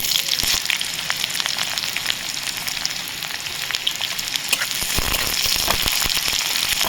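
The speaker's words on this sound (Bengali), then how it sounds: "এবার দিয়ে দেবো পেঁয়াজ কুচি" Chopped onion hitting hot oil with panch phoron, dried red chilli and sugar, a loud, dense crackling sizzle with sharp pops and spits that holds steady throughout and builds slightly toward the end, no voices.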